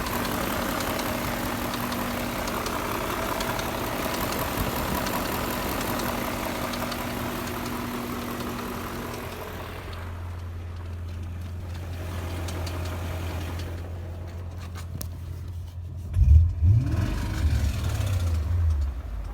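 A BMW E39 M5 engine idling with rod bearing failure, a steady low rumble that shifts to a deeper hum partway through, then a brief louder surge near the end.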